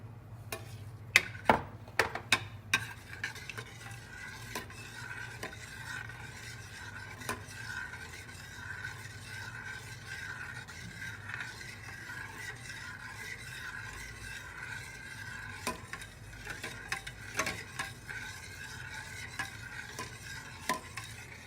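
Milk and yogurt starter being stirred in containers for homemade plain Bulgarian yogurt, a steady scraping swirl with clinks of the utensil against the container, strongest near the start and again toward the end.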